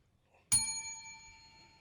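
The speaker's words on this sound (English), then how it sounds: "One ring on the bell for that one." A single bicycle-style bell ring used as a sound effect, one sharp bright ding that rings out clearly and decays slowly over quiet background.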